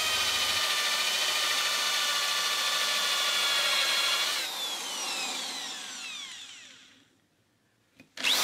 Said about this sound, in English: So I now have to mark up this board and drill a load of holes.